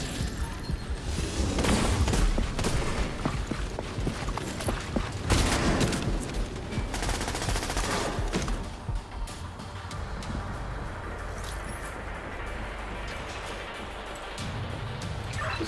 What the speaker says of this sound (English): Was that gunfire?